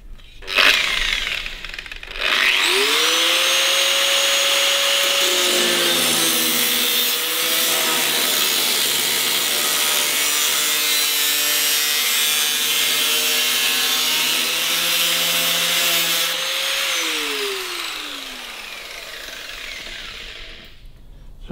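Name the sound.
jigsaw cutting 1941 Kubelwagen panel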